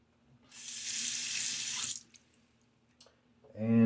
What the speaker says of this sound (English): Rinse out the razor